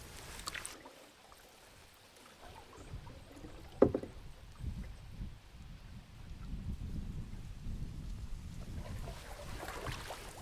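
Canoe paddling through a narrow gap between old bridge foundations on a pond leading toward a lake, with soft rhythmic water strokes and splashes, one sharper knock near the middle, and a faint outdoor ambience.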